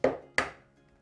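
An egg cracked against a hard edge for pumpkin muffin batter with butter and sugar, two sharp close knocks a third of a second apart, then quiet.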